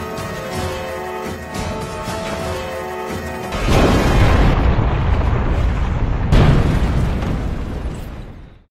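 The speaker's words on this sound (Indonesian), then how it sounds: "Untungnya mobil itu terguling di lahan yang kosong lalu Jack segera keluar tepat sebelum bomnya meledak." A bomb blows up in an action movie scene after a car overturns on an empty lot, a loud roaring blast that bursts in partway through and keeps rumbling, with a second hit shortly after.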